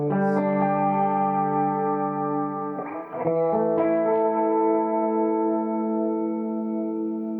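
Sustained electric guitar chords with a shimmering chorus effect, two strums that ring out smoothly and fill the space.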